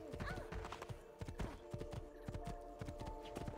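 Horse hooves clip-clopping in the video game Assassin's Creed II, a quick, even stream of close, quiet hoof beats over a low ambient game hum.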